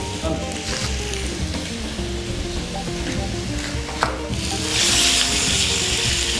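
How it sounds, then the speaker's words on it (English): Sausages frying and browning in a hot pan, a loud, continuous sizzle up close that swells louder toward the end, with a faint clink near the middle. "So just make sure you keep turning over these sausages."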